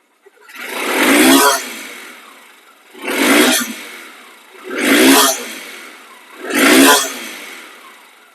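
A Honda SP Shine motorcycle, second-hand but in showroom condition, revs up four times in a steady rhythm, each throttle burst rising and falling back toward a smooth idle, close and loud with no talking.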